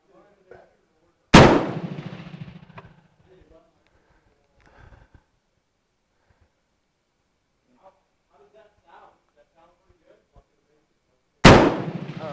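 Two loud, sharp rifle shots from a MAS 49/56, one near the start and one near the end, each with a short echoing tail, separated by about ten seconds of quiet handling noise and faint speech.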